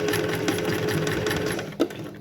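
A sewing machine stitches along the folded edge of a shirt, running in a continuous rapid mechanical whir with a short thump near the end, close and clear without speech.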